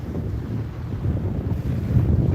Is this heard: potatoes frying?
no